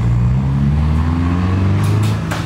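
Car engine noise filling a garage, a loud, steady low rumble with rising drone tones, joined near the end by a few brief sharper knocks.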